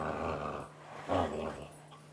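A dog growls while tugging on a toy against another dog indoors, a low rumbling growl swelling briefly partway through, with a trainer's voice faintly present.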